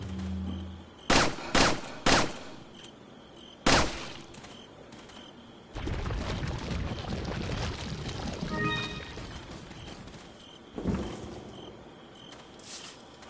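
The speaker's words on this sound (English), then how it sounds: "I'm gonna shoot it with a gun" Several sharp gunshots from a gun in Resident Evil 4, some isolated and some in a quick cluster, with a dense stretch of game noise and effects between bursts and a final loud shot near the end.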